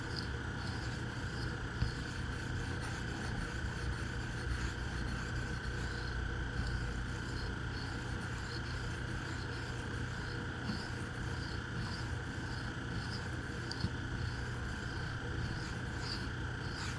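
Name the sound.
freehand knife sharpening on 1100 grit stone, Kizer Topsail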